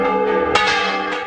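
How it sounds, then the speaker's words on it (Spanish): Church bells rung by hand from the towers of a village church, a sustained bright clang with a fresh strike partway through, ringing alone. "Con sonidos muy especiales de las campanas"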